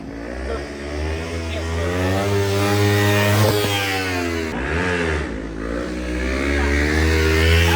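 A motorcycle holds its throttle open through a wheelie, its engine droning loud and close in a sustained rev that rises and falls in pitch with a brief dip midway, as voices call out beneath it.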